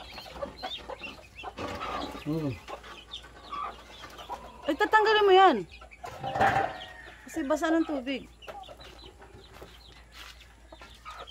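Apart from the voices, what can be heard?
native chicks and mother hen clucking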